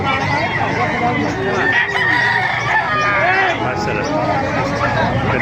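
Roosters crowing loudly nearby amid clucking fowl at a chicken market in Calumpit, Bulacan, Philippines, with people talking in the background.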